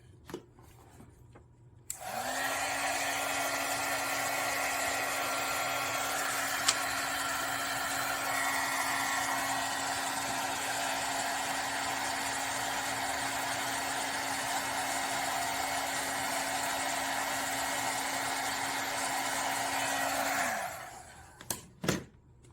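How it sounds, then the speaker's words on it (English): A heat tool for embossing on vellum switches on and blows a steady, loud whirring hum for about eighteen seconds, then shuts off and winds down, with a few faint handling clicks before and after. "I wanted to try heat embossing on some vellum and see what the vellum will look like over the top."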